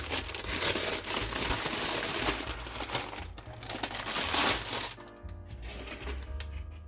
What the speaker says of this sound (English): I'm going to gather up the paper and then put these in a heat-proof bowl